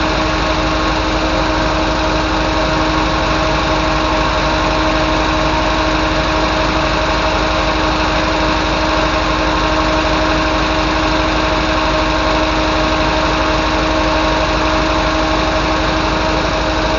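An MGB classic car's small engine idles continuously and steadily with the choke on in cold weather, a buzzy, even drone with a constant rhythmic chug, close by and with no talking.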